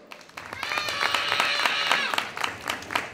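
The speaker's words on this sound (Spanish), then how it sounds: "Un fuerte aplauso para Whisky, que se sabe la carta, por favor" Spectators at a street magic show break into applause, a dense burst of clapping that builds quickly, holds for a couple of seconds and then thins out into scattered claps, heard close by.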